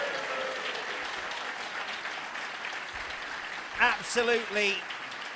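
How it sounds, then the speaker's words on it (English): Crowd at a Reform UK spring rally cheers and applauds for Ann Widdecombe, a dense, steady wash of clapping that holds throughout, with a voice speaking over it near the end. "another big cheer for Ann Widdecombe, ladies and gentlemen, please"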